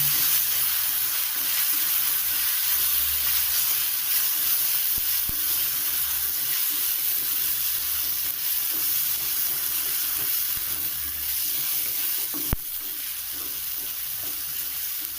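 Chili powder, cumin and masala spices stirred in a hot pan for cauliflower curry, a continuous close, loud sizzle and hiss with faint scraping of the spoon, no talk.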